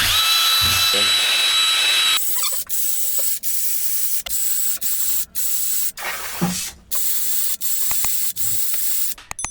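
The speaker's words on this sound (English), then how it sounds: "I'm using a rotary toilet brush to clean out each cylinder." A rotary toilet brush spun by a power drill scrubs inside an engine cylinder of a Ford Powerstroke / Land Rover SDV6 diesel, heard as loud, close whirring bursts broken by short stops, after an opening hiss of spray.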